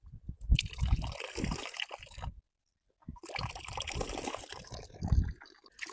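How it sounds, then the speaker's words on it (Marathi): Tap water runs into cupped hands in two close, trickling bursts separated by a brief silent pause, splashing and gurgling as the hands fill. "असं पाणी ओंजळीत भरून घ्यायचं"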